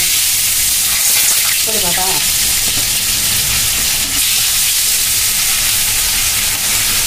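Fish fry in hot oil in a pan, giving a loud, steady, dense sizzle throughout with occasional stirring.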